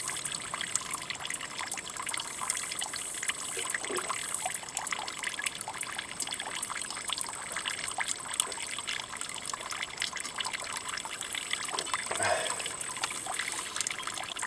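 Water trickles and dribbles into a bottle being refilled at an outdoor water source, a continuous soft splashing stream with faint hiss behind it.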